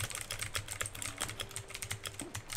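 Rapid clicking of computer keyboard keys, irregular taps close by at moderate volume with a faint background hum and no one talking.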